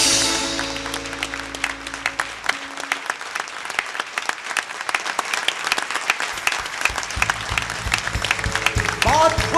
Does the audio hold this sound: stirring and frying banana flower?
no